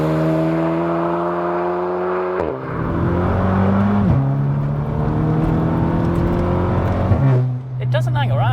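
A Volkswagen Polo GTI Clubsport engine drones steadily and drops in pitch at each upshift, pulling hard through several gears from inside the cabin.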